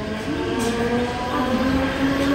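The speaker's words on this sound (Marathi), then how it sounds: "ट्रेन आली आहे." A train rolls in with a steady rumble and a high, drawn-out squeal of wheels on rails, close by.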